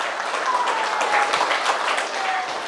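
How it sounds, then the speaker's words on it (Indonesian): Sustained audience applause at an Islamic sermon in Indonesia, a dense, steady wash of many hands clapping throughout, with a faint whistle or tone drifting across the middle. "kasih tepuk tangan"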